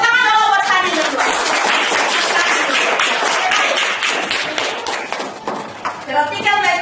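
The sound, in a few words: classroom applause for Hani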